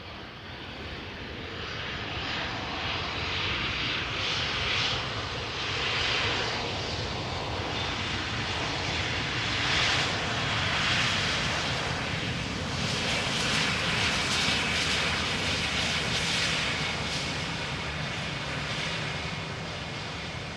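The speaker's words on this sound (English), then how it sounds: "British Airways, flight 2824, A320, arriving from London Gatwick." British Airways Airbus A320 arriving at Amsterdam Schiphol Airport from London Gatwick, a steady broad jet engine roar heard at a distance that swells slightly and holds for about twenty seconds, with no voices.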